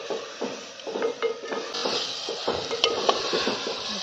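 A spoon scrapes and clinks against a pot while vangyache bharit, a mashed brinjal dish, is stirred and mixed, with light sizzling underneath in an irregular, close stirring rhythm.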